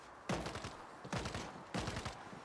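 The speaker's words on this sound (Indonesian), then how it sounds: "Ada yang tembak-tembakan ya tuh di kiri." Video game gunfire crackles in three distinct bursts of rapid shots, each a dense clatter with a quick decay, heard moderately faint against a steady background hiss.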